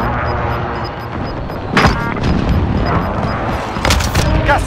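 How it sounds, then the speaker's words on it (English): Heavy booms from an airstrike in Call of Duty: Warzone on Rebirth Island, with two loud blasts about two seconds apart over constant game background rumble and distant gunfire. "Airstrike target marked."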